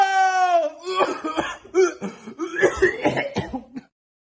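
A voiced, pitched sound gives way to a string of rough coughs and throat-clearing bursts, close and fairly loud, then silence.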